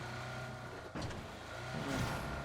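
A vehicle driving in PUBG, a low, fairly faint engine hum that swells slightly toward the end, with a brief louder burst near the middle.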